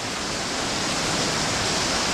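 Strong hurricane wind on a hillside above the ocean in St. Lucia roars as a dense, loud, continuous broadband rush with no breaks, heard alone without talk.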